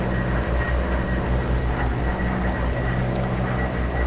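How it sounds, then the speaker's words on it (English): Twin turboprop engines of an OV-10A Bronco spool up in the DCS flight simulator, a steady, loud, dense engine roar and whine that continues without pause. "this is a twin turboprop aircraft, so it takes them a little bit to run up"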